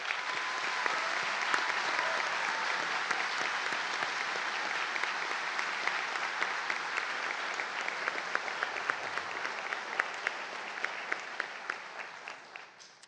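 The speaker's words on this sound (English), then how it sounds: "will you please join me in an opening round of celebratory applause for this outstanding class?" Celebratory applause from the audience at a Christian high school graduation ceremony, a thick, sustained wash of many hands clapping that holds steady before gradually thinning out toward the end.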